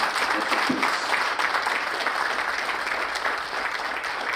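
A room of attendees at a military logistics heritage symposium gives a round of applause, steady clapping that holds strong throughout and eases slightly toward the end, with no voices over it.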